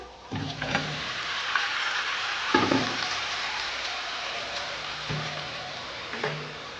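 Fried potatoes and chicken dropped into hot spiced oil sizzle steadily, with a few clanks and stirring scrapes breaking through the continuous frying hiss.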